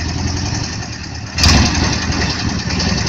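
A vintage Gnome Rhone AX2 runs in Corfu, Greece, its engine idling with a steady mid-pitched throb that jumps louder with a sudden rev partway through, close by and without talk.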